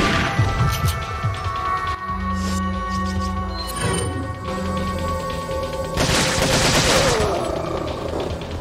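Rapid gunfire bursts crackle through a busy, layered soundscape in the video game Resident Evil 4 Separate Ways, with sharp cracks and a loud burst of noise near the end.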